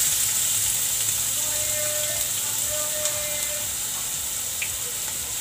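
Onions frying in a pan with cumin and carom seeds, giving a loud, steady, close sizzle and hiss throughout, with no talking.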